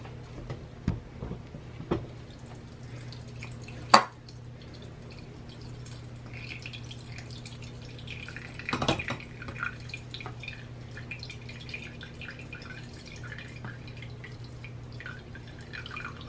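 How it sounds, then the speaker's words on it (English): Beet, carrot and orange juice drips from pulp through a sifter into a bowl: a few scattered, distinct drips and taps over a quiet background hum, with a louder splash partway through. "I'm just going to drain the pulp to get all the juice."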